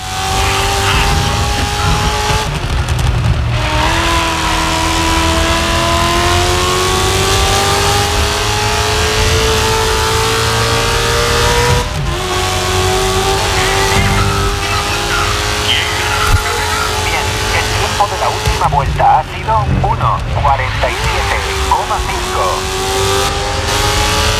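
Ford GT40 race car in the GRID Legends video game, its engine roaring loud and continuous through gear shifts and rising revs, with brief tire squeal and someone talking over it.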